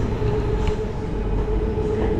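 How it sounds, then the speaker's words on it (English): Bangkok Skytrain rolling past on its elevated track, a steady, continuous rumble with a faint tonal hum, moderately loud and unbroken throughout. "There's the sky train again."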